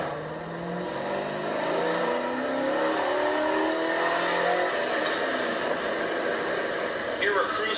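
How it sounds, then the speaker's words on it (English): A car fitted with an Edelbrock carburetor accelerates in second gear from 2000 RPM, its engine droning steadily and rising in pitch as it pulls, with road and wind noise throughout. "we're going to do a roll on here from 2000 RPM in second gear"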